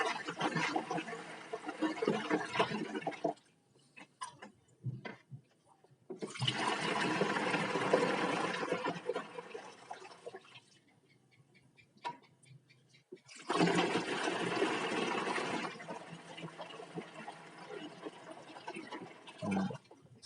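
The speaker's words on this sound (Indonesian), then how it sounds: "Nah, kemudian kita tuang." Liquid poured into a container, a steady splashing stream in three long bursts separated by quiet gaps and heard close up without talk.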